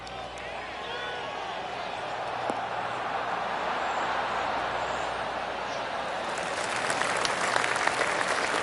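Steady crowd applause and cheering after a golf shot on the 17th hole in the PGA 2K25 video game, a broad, even wash of clapping that swells slightly toward the end.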